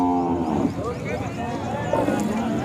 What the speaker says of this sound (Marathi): बाजारामध्ये ह्या 2 गायी आहेत